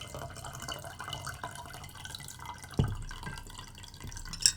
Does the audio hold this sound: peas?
no